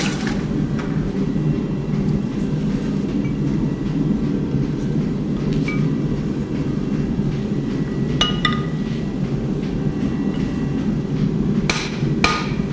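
Hammering reshapes the eye of a welded rasp tomahawk at the forge, with a few sharp metallic strikes ringing late over a loud, constant roar of background machinery.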